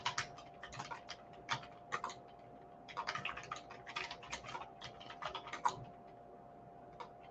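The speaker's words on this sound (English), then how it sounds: "let me type this in the chat box so that you have that list" Quick bursts of keystrokes clatter on a computer keyboard, coming in uneven clusters with short pauses between them, close and fairly quiet.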